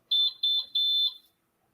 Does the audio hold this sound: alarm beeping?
yes